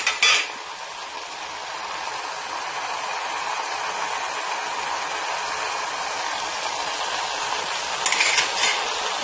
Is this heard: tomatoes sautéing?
yes